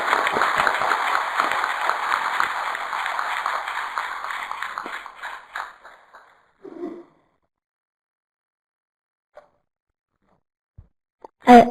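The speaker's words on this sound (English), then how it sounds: "Can we please give our panelists a round of applause?" Audience at a public meeting on Huntington's and Parkinson's disease drug development gives the panelists a round of applause, moderately loud clapping that thins out after about five seconds, leaving a few scattered claps and quiet stretches.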